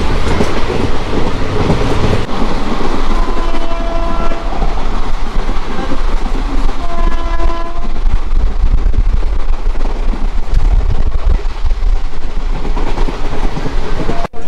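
Hazarduari Express passenger train running toward Berhampore Court, a steady loud rumble and rattle of carriages with a horn sounding twice in the middle, continuous throughout.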